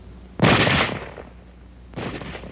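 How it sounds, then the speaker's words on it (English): Two sharp rifle shots from a bolt-action rifle, about a second and a half apart, each a loud close blast with a short fading tail and no voices. "will fire each time the bolt is operated and the trigger is squeezed"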